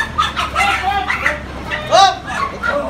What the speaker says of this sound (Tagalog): Uy, may manok pa.